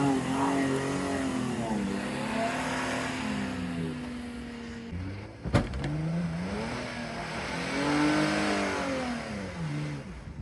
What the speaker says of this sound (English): Even the truck had a hard time pulling her out.